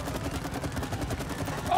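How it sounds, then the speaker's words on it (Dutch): Rapid gunfire from weapons in the co-op video game It Takes Two, a continuous stream of shots over a steady, busy game soundscape, with no voices. "Ik heb hem geknald."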